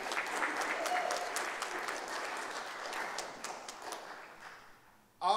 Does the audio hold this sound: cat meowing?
no